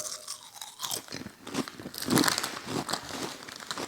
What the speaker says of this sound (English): picked up some Cuban sandwich Lay's chips